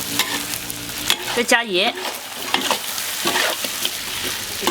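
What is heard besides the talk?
stir-frying duck with oyster sauce and soy sauce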